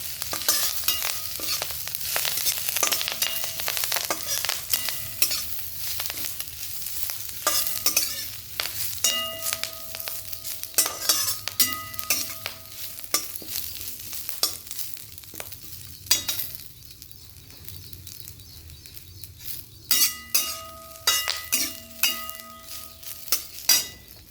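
Curry leaves roasting in oil in a pan for chutney, with soft sizzling under repeated stirring and scraping, plus intermittent clinks of a spoon against the pan.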